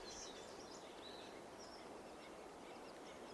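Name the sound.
birds singing in a forest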